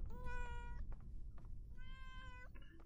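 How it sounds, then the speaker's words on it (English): A cat in the Layers of Fear video game gives two drawn-out, clear meows separated by a short pause, each rising and falling in pitch, heard close over a low background rumble. "Hello, kitty."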